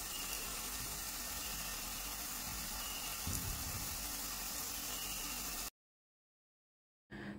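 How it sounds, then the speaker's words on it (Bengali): Jackfruit pitha fritters fry in oil with a soft, steady bubbling sizzle that cuts off near the end and then briefly returns. "আর তারপর একইভাবে ভেজে নিতে হবে পিঠাগুলো।"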